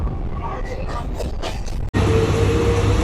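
An Indian local train running, a loud close rumble that breaks off briefly and then returns as a dense, steady roar with a sustained hum, and a voice is heard over it.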